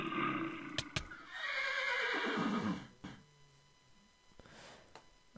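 A horse in the video game HYDRO whinnies loudly in a long, shaky neigh, followed by snorting and a few sharp clicks, with no talking.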